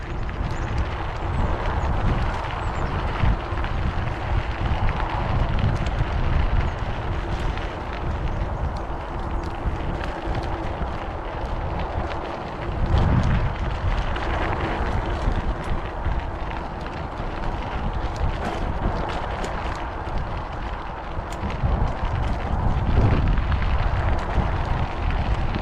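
Steady wind roars and buffets across the microphone during a bicycle ride on a gravel loop road near Era, Texas, riding into a headwind. The gusty noise is loud and continuous, with stronger swells near the middle and end.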